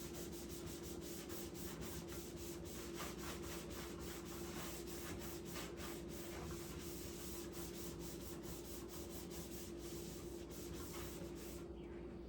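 A scrubbing pad works over dirty dishes during a kitchen clean-up, giving a steady, close, rhythmic rubbing and scouring that runs without pause, with no talk.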